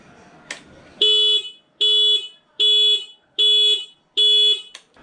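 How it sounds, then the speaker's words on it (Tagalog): A car alarm sounded through the vehicle's stock horn, five evenly spaced loud honks of about half a second each in a steady rhythm, preceded by a short click. "ituturo ko sa inyo kung paano gawing alarm ang iyong busina"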